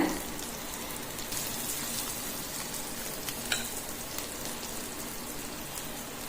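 Chicken frying in oil in a pan for a pepper chicken curry, a loud continuous sizzle with crackling pops and occasional stirring, no voices.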